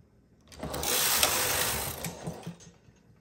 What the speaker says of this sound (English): I'm just gonna push all the needles out till I get to the row 10.